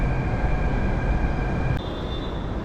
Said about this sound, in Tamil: அந்த கடையில் இந்த சவுண்டு, ட்ரெயின் சவுண்டு வேறு ஒழுங்காக கேட்குதான்னு தெரியல